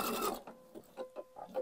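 A sewing machine quilting diagonal lines across the panel of a homemade fabric placemat: a brief burst of rasping fabric noise, then a quick, evenly spaced run of stitching pulses with a faint motor whine, close by.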